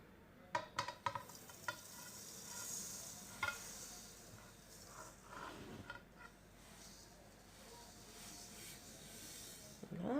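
Peanuts and sesame seeds are stirred together by hand for a Tunisian sesame sweet. Faint dry rustling and scraping is broken by a few sharp clicks near the start, with no talking.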